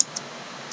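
Light clicking keystrokes on a computer keyboard, a few soft, quick taps at close range in a quiet room.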